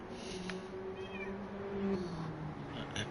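A cat gives a drawn-out meow, faint and close, against a quiet room hum with a couple of soft clicks.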